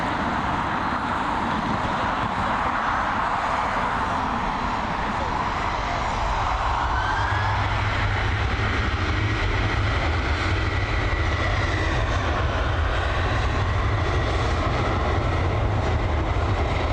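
A Boeing 737 jet at Dublin Airport gives a broad, steady engine roar that swells and holds, loud and continuous, with a rising whine partway through.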